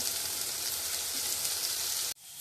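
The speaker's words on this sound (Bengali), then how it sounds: "আমি একটু বেশি করার জন্য একটু বেগুন দিয়ে আর পেঁয়াজ দিয়ে ভাজছি" Eggplant and onion fry in hot hilsa fish oil with a loud, close, continuous hiss and crackle that cuts off sharply near the end, leaving near silence.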